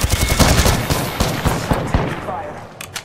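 Rapid bursts of gunfire from the video game Apex Legends: a string of loud, close shots with sharp transients through the first two seconds, thinning to scattered reports as the firing tapers off.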